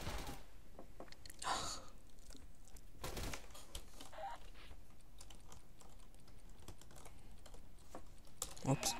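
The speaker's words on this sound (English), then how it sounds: "I don't mean to type." Quick clattering keystrokes on a computer keyboard during a session of the game BeGone, steady and fairly quiet, with a few louder taps and no talk.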